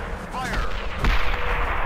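Weapon fire in a tank combat game rolls out as a heavy booming blast with a deep low rumble, preceded by a brief mechanical whirr, loud and close with no talk over it.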